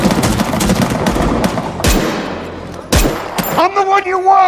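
Film soldiers fire in loud, dense bursts of automatic gunfire with sharp individual shots, close and continuous. A voice comes in near the end over the shooting.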